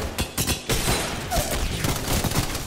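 Gunfire in the Apex Legends video game, with a dense, continuous fusillade of close shots and blasts crowding together over a few seconds, with no talking.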